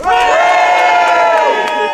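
A crowd of festive run club members shouts a loud, sustained cheer for the Grinch, a close, unified roar of many voices holding for about two seconds.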